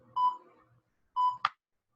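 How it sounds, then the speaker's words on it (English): A workout interval timer sounds two short electronic beeps about a second apart, the second ending in a sharp click, clear and alone in a quiet room. "So let's start the timer. It should be loud enough."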